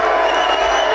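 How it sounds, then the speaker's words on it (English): A wrestling crowd at a 1975 UK bout booing Mick McManus, a loud, dense, steady roar of many voices filling the hall without a break. "they're booing him because it's the fashion to boo McManus"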